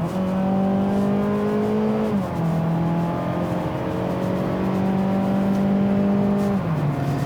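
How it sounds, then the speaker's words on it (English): A 2019 Mazda CX-3's buzzy 2-liter four-cylinder engine accelerates from inside the cabin, its steady drone rising in pitch through two gears with brief dips at each upshift, loud and continuous. "The first thing that immediately stands out is the rather buzzy engine in this car"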